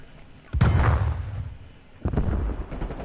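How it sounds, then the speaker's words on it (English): A grenade explodes during a Counter-Strike match, two sharp booming blasts about a second and a half apart, each decaying into a rumbling tail. "Solid nade from Payne there, taking out Putty."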